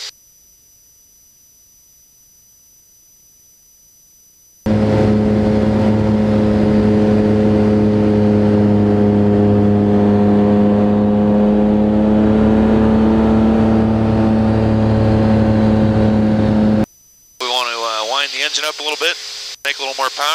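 Subaru-powered RV-7A experimental airplane in cruise flight at about 4,500 engine rpm, a loud, steady droning hum with strong low tones held for about twelve seconds, with a voice talking over parts of it.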